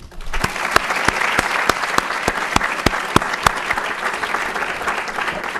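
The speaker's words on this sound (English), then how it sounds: "Please join me in a round of applause." A crowd at an award ceremony applauds steadily, dense clapping filling the room with a few sharper, louder claps standing out, no voices over it.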